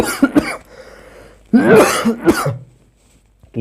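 A few short throaty coughs or throat-clearing bursts, close and fairly loud, separated by quiet pauses, with one longer harsh burst in the middle.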